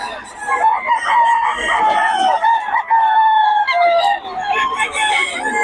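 Several roosters crow in overlapping, drawn-out calls from a breeder's gamefowl lines, loud and close, with clucking and a voice mixed in underneath.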